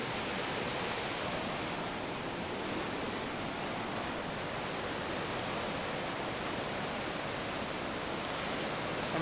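Turbulent water rushes loudly and continuously, a dense, unbroken roar close by with no other sounds.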